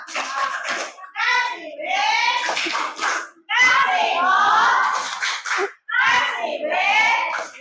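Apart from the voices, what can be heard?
children doing rhythmic 'tepuk wow' clapping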